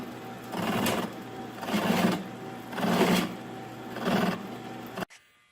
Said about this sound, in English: So we're going to clamp this in the milling machine and just make our own.